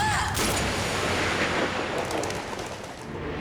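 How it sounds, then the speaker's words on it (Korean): A single gunshot in a Korean TV drama, heard as a loud, dense blast that fills the whole short clip with a booming rumble and no speech. "성진가를 뒤흔든 한 발의 총성."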